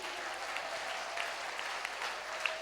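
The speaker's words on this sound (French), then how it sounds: "let's put our hands together one more time for Le Jesus" A church congregation applauds the choir's ministration at a Sunday marriage-breakthrough alliance service, steady sustained clapping filling the room for a few seconds with no voices over it.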